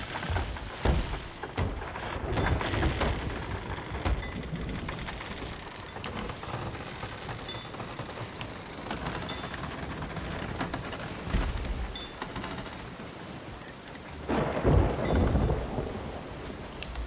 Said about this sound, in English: This storm is not great, though.